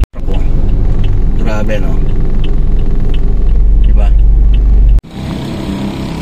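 A dump truck's heavy engine rumbles steadily nearby, a constant low drone beneath people talking, cutting off briefly near the end before resuming.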